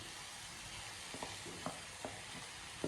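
Sweet potato with coconut and jaggery sautéing in a pan, a faint steady sizzle with a few soft scraping stirs, no voices.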